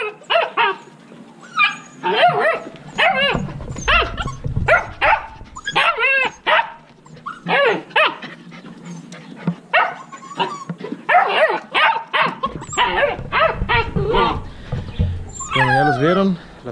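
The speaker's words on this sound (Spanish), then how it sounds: "Son dos cachorros de husky y ahí vienen." Two husky puppies bark, yip and whimper in a lively string of short calls close by, with a person talking over and between them.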